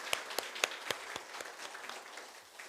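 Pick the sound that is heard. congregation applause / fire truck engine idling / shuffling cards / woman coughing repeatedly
congregation applause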